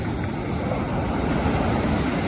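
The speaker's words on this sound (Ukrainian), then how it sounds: "Мой вечірній океан." Evening surf on the Atlantic Ocean: a steady, broad wash of waves rolling in, continuous and fairly loud with no voices over it.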